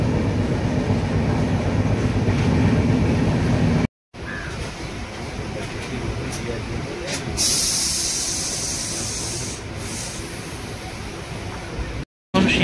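Train noise at platform 1 of Vizianagaram junction: a broad steady rumble and hiss of rail cars with a brighter hissing burst partway through, constant and fairly close, with two brief dropouts.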